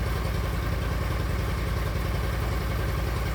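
An Argo Avenger ATV from 2006 with a Kohler Aegis engine idles steadily, a close, continuous low chugging throb with light clatter and no talk.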